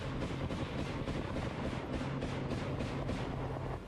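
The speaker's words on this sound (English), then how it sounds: "3 Bradleys firing 10 rounds a second." Rapid autocannon fire from three Bradley armored vehicles shooting into a wooded area, a dense, continuous roar of bursts with rumbling low end and wind buffeting, loud and unbroken.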